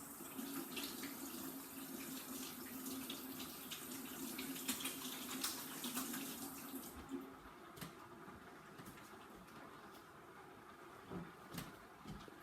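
Tap water running into a kitchen sink during hand washing while baking an apple and raspberry crumble, a steady close splashing stream that softens partway through.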